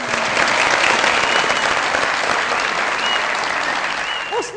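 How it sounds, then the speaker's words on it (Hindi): A television studio audience at a comedy talk show claps loudly and steadily, the applause thinning slightly toward the end as a few cheers and voices come through. "बहुत सारी तालियां इनके लिए हो जाए।"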